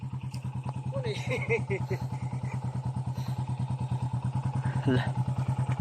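A motorcycle engine idles with a steady, rapid low putter throughout on a rough road in the Philippines, while people talk faintly nearby over it.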